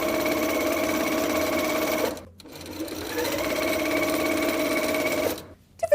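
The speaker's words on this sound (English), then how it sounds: "we're going to sew all of these together" A sewing machine stitches bias binding strips together, a steady mechanical whir running close and loud, briefly pausing twice before resuming.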